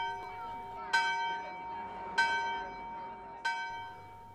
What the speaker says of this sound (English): the timing of the rings is entirely dependent upon the pendulum motion of the bell